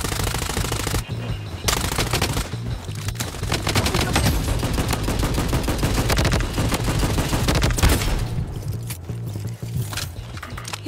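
An MP5 submachine gun rattles in the Blood Strike video game, long rapid automatic bursts, loud and close, broken by a couple of short pauses.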